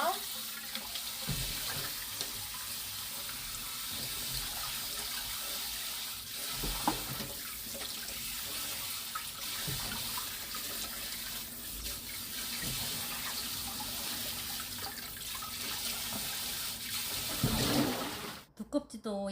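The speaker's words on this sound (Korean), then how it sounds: "껍질기를 벗긴 거라 깨끗이 씻어주기만 하면 돼요" Peeled old cucumber (nogak) is rinsed under a steadily running kitchen tap, with water splashing continuously and loudly into a sink for the whole stretch, ending in a brief clatter.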